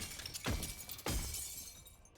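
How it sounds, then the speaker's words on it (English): A crystal wall in the Nikke game is hammered twice and shatters, each impact a sharp crack followed by a falling, glassy rumble, the two strikes about half a second apart, fairly quiet and close. "Hammering chips at the wall of crystal blocking our way. It quickly shatters"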